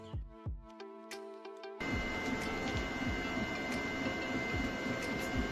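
A Flashforge Adventurer 5M Pro 3D printer running fast, with quick stepper-motor whirs and chirps over a steady loud fan hiss that switches on partway through and then holds, heard up close with no talking.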